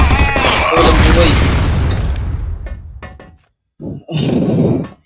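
A loud grenade blast in a first-person shooter video game, a big roaring boom that decays over a couple of seconds, followed by short bursts of gunfire and game noise, with a voice shouting over it.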